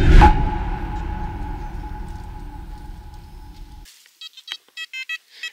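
A metal detector sweeping for buried coins gives a loud, steady hum over ground noise that cuts off, followed by a quick series of short, close, electronic target beeps.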